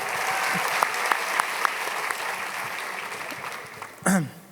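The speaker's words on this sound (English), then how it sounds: "Can we give her a big round of applause?" An audience at a graduation ceremony claps in steady applause, a crowd heard from a moderate distance, ending in a short closer sound.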